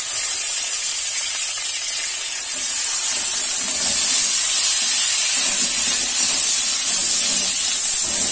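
Potatoes fry with garlic, onion and whole cumin in a hot pan, giving a steady, loud, continuous hiss and sizzle throughout with no talking.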